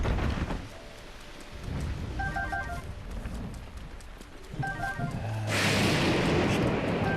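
Rain and rolling thunder from a storm in the video game The Legend of Zelda: Breath of the Wild, a steady wash of rainfall with a louder rumble swelling near the end, plus a few faint chime-like game tones.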